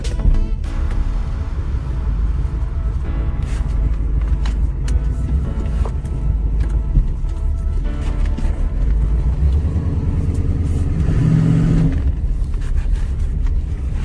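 A 1976 Corvette Stingray with T-tops drives with its engine running steadily, a continuous low rumble that swells briefly near the end, close and loud with no talking.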